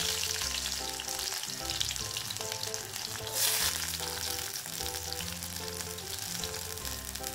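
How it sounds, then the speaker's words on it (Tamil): Onions, garlic and curry leaves sautéing in hot oil after mustard and cumin seeds were tempered, a steady close sizzle running throughout with no talk, for a turkey berry kuzhambu. "வெங்காயம், பூண்டு, கருவேப்பிலை இது எல்லாத்தையும் சேர்த்து நல்லா வதக்கிக்கலாம்"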